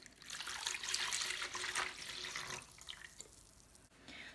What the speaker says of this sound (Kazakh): Ыдысымызға суымызды құйып аламыз.